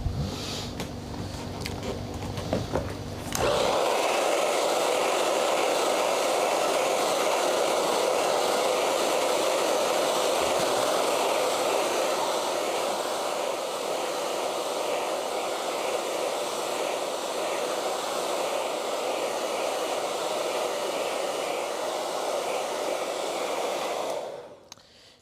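A hair dryer blows steadily to dry a watercolour painting, a loud continuous whooshing hum that runs for about twenty seconds after a short quieter start and then cuts off.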